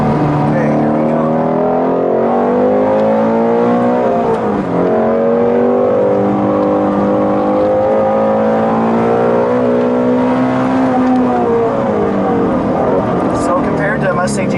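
A 2015 Shelby GT350R engine pulls hard under full acceleration, a loud sustained rising howl through the gears heard from inside the car, with people talking over it.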